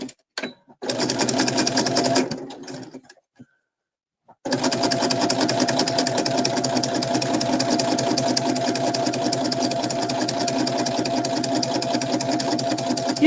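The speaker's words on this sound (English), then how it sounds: "I could sew better with this walking foot than I could with the rest of that" Sewing machine fitted with a walking foot, running in a short burst, pausing briefly in silence, then stitching steadily and continuously at close range with a droning mechanical whir.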